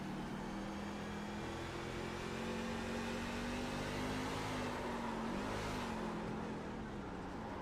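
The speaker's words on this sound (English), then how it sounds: "He's trying to feed a little bit of throttle, trying to get that truck to straighten up." A race truck engine at a one-mile track drones and rises and falls under the throttle as it slides, a steady mid-distance roar with a faint wavering whine running throughout.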